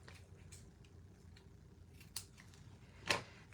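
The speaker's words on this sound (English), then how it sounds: "Let's just trim off the edges." Scissors snip the ends of a ribbon during a paper-crafting project, with two crisp cuts: a lighter one and a sharper, louder one near the end, close up over a quiet room.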